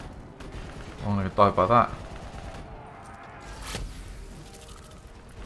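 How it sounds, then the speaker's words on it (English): An Annihilator pistol firing during the campaign of Call of Duty Black Ops 3: a short cluster of heavy, punchy shots, followed by a sharp later impact, with a player talking over the game sounds. "This Annihilator pistol in the campaign is amazing."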